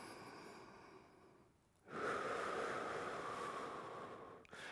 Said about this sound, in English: Just take a few beautiful breaths here.